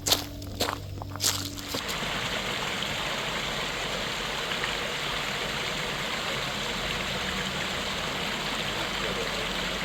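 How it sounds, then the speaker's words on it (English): The Pigeon River in Great Smoky Mountains National Park rushes in a steady, full stream of flowing water, heard close after a few crunching footsteps at the start. "Pigeon River. Very beautiful."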